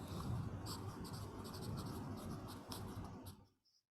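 Chalk or marker strokes on a board during a maths lecture make a steady rubbing scratch for about three seconds, then lift off into near silence, with a tiny tap at the very end.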